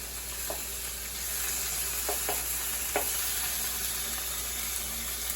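Salmon searing in a hot pan for Tuscan butter salmon, a steady close sizzle with a few light spatula taps and pops, no talking.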